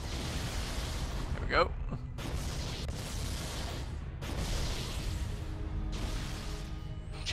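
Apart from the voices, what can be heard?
explosions in the video game Halo: Combat Evolved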